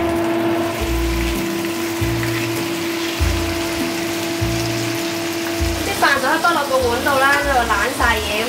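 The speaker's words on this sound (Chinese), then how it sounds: "煎緊啲牛啊！" Beef frying in a hot pan with butter for homemade Pepper Lunch gives a steady close sizzle, with a low hum and music beneath it and voices talking over it toward the end.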